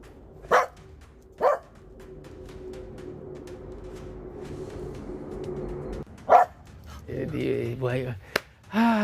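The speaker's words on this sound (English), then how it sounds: "See the dog barking him?" A dog gives several sharp, separate barks, two early and one later, standing out over a low steady background hum, with a voice talking near the end.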